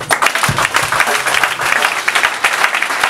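Church congregation applauding the Lord, a dense, steady wash of clapping from many hands that fills the whole moment at full volume without a break.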